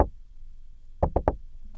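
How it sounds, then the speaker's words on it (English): Three quick knocks on an office door, close and distinct, after a brief decaying sound at the start; otherwise quiet. "James knocks on Mr. Barnes' door and enters his office"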